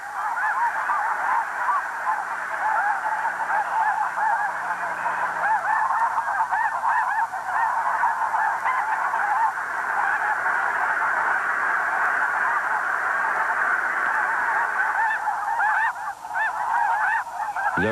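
A large flock of snow geese on a tidal marsh near Quebec City honks continuously, a dense overlapping chorus of nasal calls that stays loud and steady throughout, with no voices.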